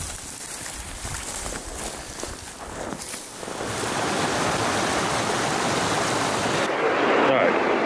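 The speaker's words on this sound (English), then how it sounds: "we are down here in this creek" Creek water runs steadily in Idaho backcountry, a broad rushing wash that grows louder and nearer partway through, with brief scuffing and shuffling first.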